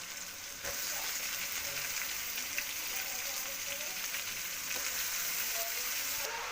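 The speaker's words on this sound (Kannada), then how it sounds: "ಇವಾಗ ಇದಕ್ಕೆ ಕ್ಯಾಬೇಜ್ ಹಾಕ್ಕೋತೀನಿ" Cabbage hits a hot pan with ginger garlic paste and fries in a loud, dense, continuous sizzle that jumps up sharply as it goes in, then holds steady, close up.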